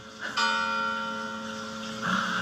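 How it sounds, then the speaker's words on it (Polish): Church bells ring steadily with sustained, overlapping tones that swell at the start and again near the end, with no one speaking. "To zupełny przypadek, że akurat mi to dzwony biją."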